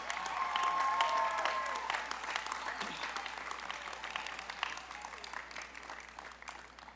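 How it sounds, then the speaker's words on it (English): Applause at a high school graduation ceremony, a dense crowd clapping that starts strong and gradually tapers off over several seconds, sounding slightly distant in a large hall. "Please give these students a round of applause."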